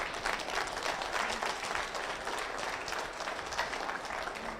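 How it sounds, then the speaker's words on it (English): Warm, continuous crowd applause at a beef cattle ring during a provincial show in Stettler, Alberta, for Bill Dietrich and his family, steady and moderately loud from start to finish. "Give a round of applause for Bill Dietrich and his family."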